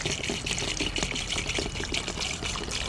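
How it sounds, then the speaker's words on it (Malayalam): Water pours and splashes into an old bucket as fertilizer is stirred in, a busy, close gurgling wash with small knocks. "ഇതിപ്പം വെള്ളം ഒഴിച്ച് നമുക്ക് നല്ലതുപോലെ കലക്കി വയ്ക്കാം."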